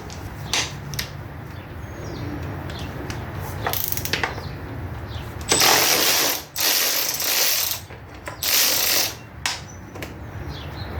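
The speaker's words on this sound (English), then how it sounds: "We might have to loosen up this bolt up here." A ratchet clicks while loosening a bolt on a 1975 Yamaha 175 barn-find motorcycle, with sparse clicks at first, then longer loud bursts of rapid ratcheting up close.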